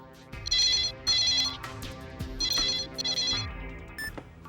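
A telephone rings in repeated electronic bursts, loud and close, with short gaps between the rings and no talking over them.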